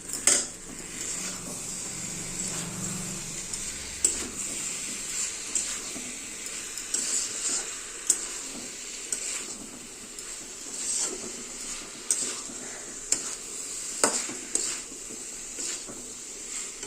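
Fried potato and jackfruit tipped into a pan of cooking masala for jackfruit prawn curry, with a scrape and soft sizzle followed by repeated clinks and scrapes of a utensil against the pan, close and moderately loud, no talk.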